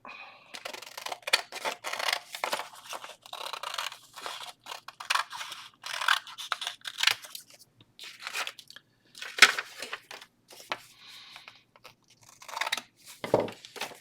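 Scissors snip through a paper craft tag, cutting it in half, with repeated close crisp snips and rustling paper in an irregular rhythm, no talking.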